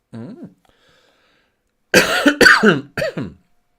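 A person coughing: a short throat sound at first, then after a pause a burst of three sharp, close coughs in quick succession.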